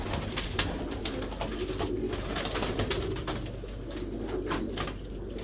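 Pigeon cooing, from a prized pigeon kept by a fancier, repeats in soft throaty rolls against a steady background hum, with occasional light rustles and no talk.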